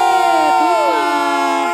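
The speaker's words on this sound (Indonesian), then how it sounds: "mari kita berikan tepuk tangan yang meriah" A crowd at a film event cheers and shouts loudly for the filmmakers, a sustained roar of many voices with overlapping whoops and pitched yells close by.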